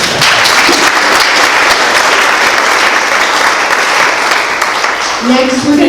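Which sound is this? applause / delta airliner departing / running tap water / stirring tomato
applause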